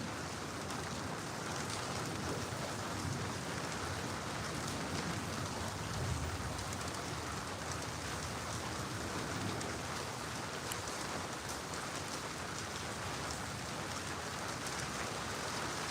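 Steady rain pours down without a break, a dense even hiss of drops on surfaces with no voices.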